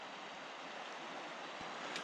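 North Fork Skokomish River near Staircase Rapids, Olympic trail: a steady, soft wash of flowing water, fairly faint and distant, continuous broadband rush with no voices.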